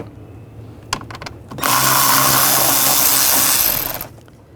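A power tool whirs steadily for about two and a half seconds, backing T25 screws out of the intake on a 2.0L Volkswagen Tiguan, preceded by a few sharp clicks and taps.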